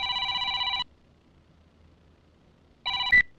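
A telephone rings twice with bright electronic trills: one burst lasting under a second, a silent gap, then a second short burst that is cut off with a click as the call is picked up.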